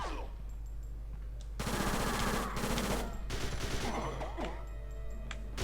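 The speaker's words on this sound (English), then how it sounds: "We have a turret on our hands." Rapid machine-gun bursts from an automated turret in the video game Fighting Force 2, crackling loudly and continuously for several seconds, then dropping back to faint background tones.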